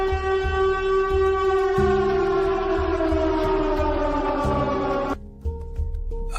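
A loud wailing alarm siren sound effect, a sustained rising-and-falling tone holding steady for several seconds before cutting abruptly to a lower pitch, played alone without talk.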